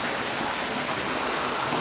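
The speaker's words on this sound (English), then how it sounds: "flowing water is fantastic" Steady rush of flowing water among ancient ruins at the Smyrna Agora in Izmir, a continuous broadband hiss, close and even with no voices.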